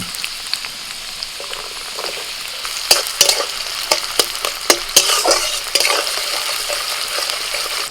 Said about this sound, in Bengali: আদা কুচি রসুন কুচি ভাজা হলে দিচ্ছি পেঁয়াজ কুচি